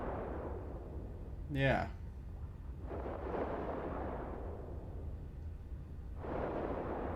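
Spaceship guns firing in Eve Online come as deep, rumbling booming swells with a low steady drone beneath, one crackling burst early and two longer roaring waves later, while someone talks briefly over it.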